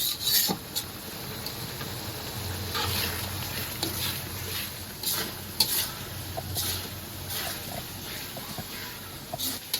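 Spice masala with water and salt stirred and fried in a pan, a steady soft sizzle with scraping and rubbing strokes of a spoon at irregular intervals, close and continuous.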